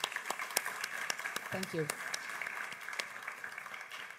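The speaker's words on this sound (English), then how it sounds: "let's thank our guest with a big round of applause" A conference audience applauds an interview guest on stage, a soft, steady patter of many hands clapping at a distance while someone speaks briefly over it.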